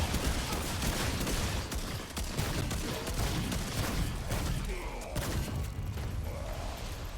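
The Wrangler hunting rifle fires in Remnant 2 co-op gameplay amid a dense, continuous wall of loud gunfire and combat noise, with no clear gaps between shots.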